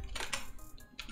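A few quick keystrokes clatter on a computer keyboard while someone types code in Android Studio, close and fairly quiet, in two short bursts.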